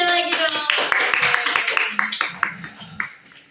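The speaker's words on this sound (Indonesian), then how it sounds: "Kita kasih tepuk tangannya sekali lagi dong." A small audience at a motivational talk claps in scattered bursts that thin out and fade over a few seconds, with a voice speaking at the start.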